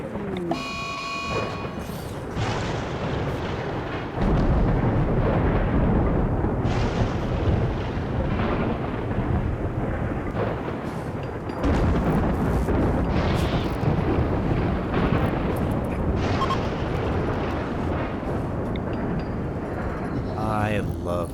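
A long, deep rumble of thunder rolls through a RimWorld storm, heavy and sustained, swelling in waves.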